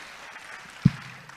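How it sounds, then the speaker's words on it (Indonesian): An audience at a talk on inspiring leadership claps together, a steady patter of applause with a single louder thump partway through, moderately close. "Kasih tepuk tangan."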